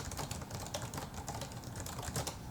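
Steady, fairly quiet typing on a ProtoArc ergonomic keyboard, a continuous run of soft key clicks with no voices over them.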